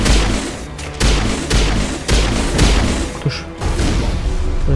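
Heavy weapon fire and explosive booms in the video game Mass Effect Legendary Edition, loud repeated blasts roughly once a second over a constant rumbling battle din, no voices.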